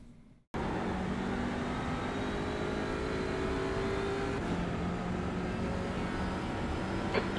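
Audi RS3 TCR race car engine on a lap of Mid-Ohio in iRacing, a steady loud drone that starts abruptly and holds at high revs throughout, with faint shifts in pitch and no voices.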